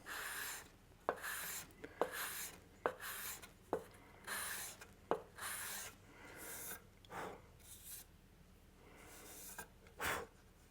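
Hand sanding along the grain of a guitar neck headstock on an archtop build, a series of soft raspy strokes separated by brief pauses, each one close and distinct, with quiet surroundings and no speech.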